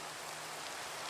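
Steady, even rainfall hisses without a break in a video game, a soft wash of falling drops with no other sound on top.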